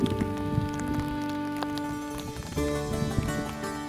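Rain falls steadily over a village path in a constant patter with scattered drips and a few soft thuds. There is no speech.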